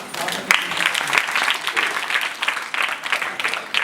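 Audience applause at an annual day speech event, a dense, steady clapping crowd sustained throughout with a few sharper individual claps standing out.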